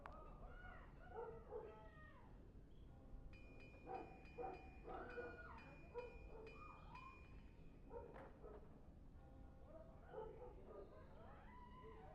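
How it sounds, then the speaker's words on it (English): A dog in the Dragon Age: Origins game barks, yips and whimpers in scattered bursts, moderately close and fairly faint, over a steady low background hum. "I'm listening to the dog barking"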